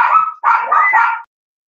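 A pet dog at home gives a sharp bark followed by a longer yipping, whining bark, two loud close bursts in quick succession before falling silent.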